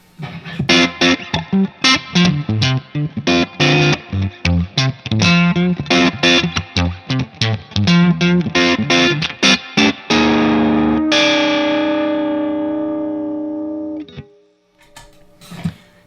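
Distorted electric guitar through a JHS Artificial Blonde vibrato pedal plays choppy rhythmic chords with a wavering, pulsing modulation, then a final chord rings out and fades, followed by a few scattered plucks.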